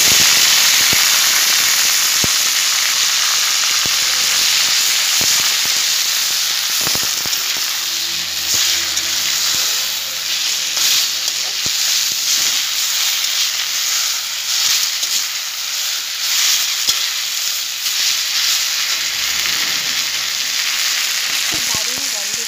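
Jute leaves dropped into hot oil with browned, fried garlic hiss and sizzle loudly and steadily, with scattered sharp crackles and pops throughout, close up and with no talking.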